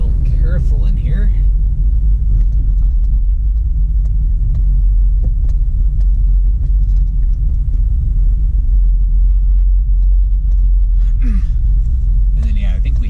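A car drives through downtown Houston with a constant heavy low rumble of engine and road noise filling the cabin, while people talk over it now and then.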